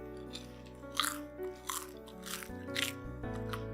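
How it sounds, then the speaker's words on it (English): Crunchy chicharap snack is bitten and chewed close to the mic, a few sharp crisp crunches at irregular intervals over quiet background music. "Chicharap that's also very crunchy."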